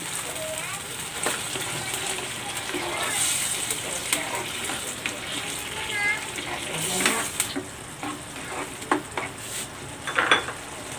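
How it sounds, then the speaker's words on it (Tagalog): Water hisses and sizzles as it is poured into a hot pan of sausage and eggs in tomato sauce, with utensil clinks and stirring scrapes, a voice talking over the cooking. "Maglalagay ako dito ng tubig."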